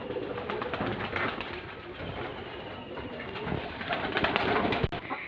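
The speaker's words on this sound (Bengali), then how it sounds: "কবুতরগুলা কি সুন্দর লাগতেছে" Pigeons coo steadily at a household in the countryside, a continuous low murmuring of calls at moderate distance with faint background noise and occasional soft bumps.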